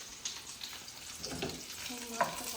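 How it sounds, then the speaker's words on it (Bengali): Fish fries in a pan with a low, steady sizzle, faint and close, with a few small pops and no talk. "যে একটা মাছ ভাজা পাওয়া যাবে তোমার জন্য ভাজছি"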